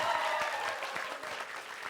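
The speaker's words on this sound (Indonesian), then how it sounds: "Tepuk tangan dong." A studio audience at a televised comedy show applauds in a brief, dense burst of clapping that stays fairly loud for the whole moment.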